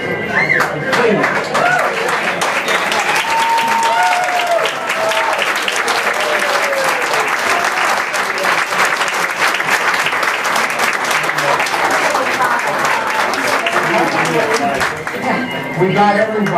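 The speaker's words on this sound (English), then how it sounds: "we want to give you an ovation" Sustained applause at a class of 1963 reunion in Wellsville, honouring classmates who served in the armed forces; steady, dense clapping from a roomful of people fills the whole stretch, with some voices mixed in.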